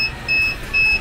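A homemade solar-powered egg incubator alarm beeps in short, thin electronic tones, three clear bursts in about a second, near and fairly loud over quiet fan hum.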